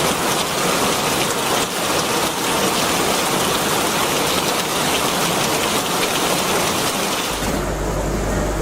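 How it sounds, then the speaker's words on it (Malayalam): Artificial rain from a home rain system at a house in Malappuram pours down in a dense, loud, continuous hiss of falling water that shifts in tone near the end. "കോരിച്ചൊരിയുന്ന മഴയുടെ തണുപ്പും ശബ്ദവുമുണ്ട്"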